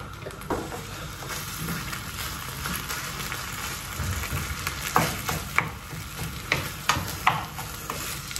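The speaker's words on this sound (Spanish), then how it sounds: "Y ahora ya echamos la carne." Meat frying in hot oil in a pan, a steady dense sizzle with occasional louder pops and spatters, close and continuous with no voices.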